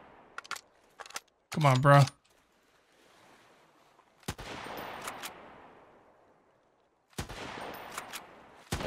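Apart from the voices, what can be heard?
gunshots from the video game Sunkenland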